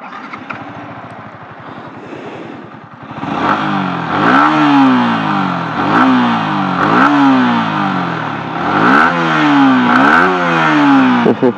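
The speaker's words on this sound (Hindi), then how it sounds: "एबे जिबा फास्ट R15 रो सुनि नबा" A Yamaha R15 sport motorcycle's exhaust note, with a low idle burble before the engine is revved hard five or six times in a row, each loud rise falling back, close to the exhaust.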